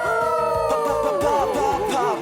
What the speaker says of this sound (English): if you're ever in trouble, just howl for help